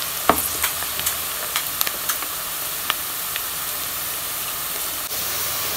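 Onions sizzle and fry in a pan until browned for a Hazaragi spinach and meat dish: a constant hiss with small crackles and scraping stir clicks scattered through it, no talking.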